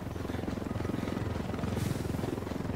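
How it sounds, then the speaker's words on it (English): A Unidad military helicopter in Ghost Recon Wildlands drones steadily throughout, its rotor producing a dense, rhythmic low-frequency thumping at constant loudness with no talk over it. "Oh shoot, get down, Unidad helicopter."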